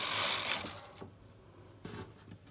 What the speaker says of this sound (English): And then you run the carriage across